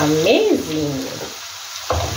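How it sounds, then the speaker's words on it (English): Tomatoes are stirred in a pot for a coconut fish curry, with a soft sizzle and a spoon scrape under a tonal sound, then a brief lull and a single short spoken word. "you ensure you stir everything so well"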